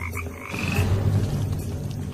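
Frogs infected with a parasitic flatworm croak in a dense, low, continuous chorus, loud and steady, with no voices.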